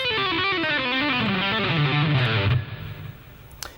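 A distorted electric guitar plays a fast palm-muted legato run in a rock soloing style, the notes tight and choppy before a muted stop and a faint string noise near the end.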